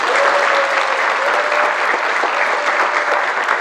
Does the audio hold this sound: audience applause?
yes